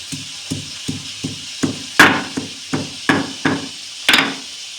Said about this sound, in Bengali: 4টা কাঁচা লঙ্কা নিয়েছি, এভাবে আমি বেটে নেব।